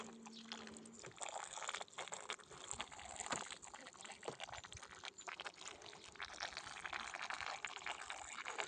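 Sugar syrup feed poured into beehive honeycomb frames in a small nucleus box, a continuous close trickling and splashing liquid stream with faint handling noises.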